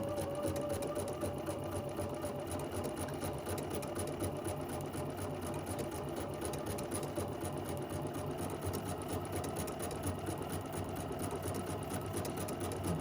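A sewing machine runs continuously while stitching a project bag, its steady motor hum and rapid needle chatter close and even for the whole stretch, with no talk.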